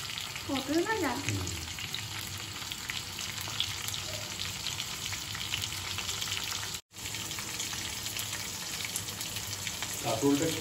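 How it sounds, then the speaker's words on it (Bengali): Pointed gourd slices fry in hot oil with a steady, close sizzle that lasts throughout, broken by one brief dropout, while a voice speaks briefly in the background. "পটল ভাজা"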